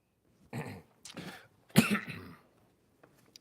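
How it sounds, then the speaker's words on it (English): A few coughs close by, a short one, another, then a louder harsher burst, with quiet gaps between. "I'm coughing a little bit."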